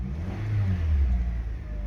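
Idling-to-light-rev engine of an 8th-generation Honda (2008–2012) car held around 1500 rpm, heard from inside the cabin as a low, steady rumble with slight swells, no talking.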